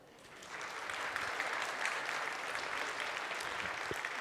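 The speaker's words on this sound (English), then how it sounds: "The audience will erupt into amazing applause like this." Sustained applause from a conference audience at the EU Dev Days 2019 opening ceremony, a steady wash of many hands clapping that swells within the first second and holds evenly, moderately distant, with no voices over it.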